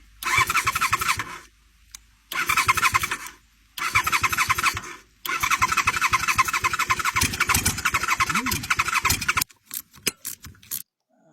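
An old 1980s Honda motorcycle engine is cranked repeatedly in loud bursts of several seconds with pauses between, the starter squealing and churning, followed by short sputtering attempts near the end.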